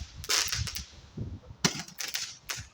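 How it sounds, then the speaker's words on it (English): Fireworks on Bonfire Night crack and pop in quick bursts, two sharp clusters of bangs with scattered smaller reports, fairly near and loud with no talk over them. "There's some fireworks in the distance, as you can see."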